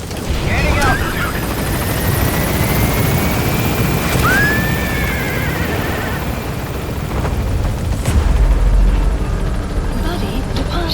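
Helicopter in the video game Metal Gear Solid V lifting off and departing, a loud steady rotor roar filling the scene with a whooshing swell near the end, under game radio voices.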